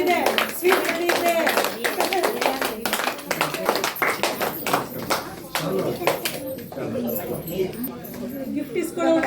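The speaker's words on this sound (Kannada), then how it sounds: "ಚಪ್ಪಾಳೆ ತಟ್ಟಬೇಕು." Children at a government school Independence Day function clap in sharp, rapid bursts, loud and close at first and thinning toward the end, with talking underneath.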